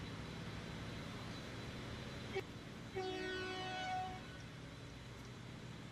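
Train running on track in the Transport Fever railway game, a steady low rumble throughout with a brief clank, then a horn sounding in a short series of tones for about a second before the rolling noise carries on.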